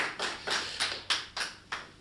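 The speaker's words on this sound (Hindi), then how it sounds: "एक बार तालियां बजाएं उनके लिए, इस बात के लिए।" A few people clap in a slow, uneven rhythm at a Hindi kavi sammelan poetry gathering, about seven distinct soft claps spaced roughly a quarter second apart, faint and sparse rather than a full crowd.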